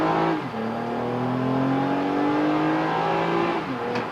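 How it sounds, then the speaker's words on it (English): A 2021 Toyota Camry TRD with its cat-back exhaust accelerates hard on a freshly paved road, the engine rising in a loud, continuous drone with an upshift midway and another near the end. "you do hear that TRD catback"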